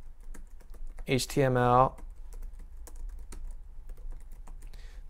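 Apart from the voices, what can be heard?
typing on a computer keyboard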